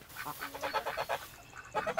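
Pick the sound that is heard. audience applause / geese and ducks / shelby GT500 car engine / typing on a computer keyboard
geese and ducks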